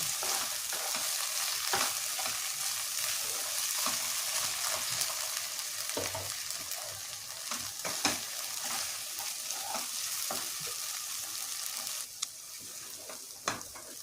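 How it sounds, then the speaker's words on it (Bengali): Spice paste ground with tomato frying in oil in a pan for jackfruit curry, a steady close sizzle broken by occasional scrapes and clicks of stirring, with no talk. "দেখো মশলাটা ভালো করে ভাজা হয়ে গেছে, তেল বেরিয়ে গেছে"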